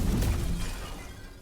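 An object smashed in Star Wars Jedi: Survivor: a single close, loud shattering crash with a heavy low thud that quickly fades into a short tail of rattling debris.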